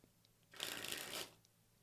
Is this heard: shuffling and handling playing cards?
yes